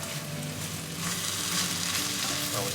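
Seafood black fried rice is stirred in a frying pan, a dense, loud, continuous sizzle with the soft scraping of ingredients being mixed, close up and without speech.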